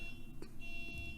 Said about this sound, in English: somebody's car alarm's going off